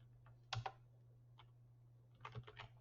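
Computer keyboard typing, a few soft, quiet clusters of key clicks over a steady low electrical hum, with no talking.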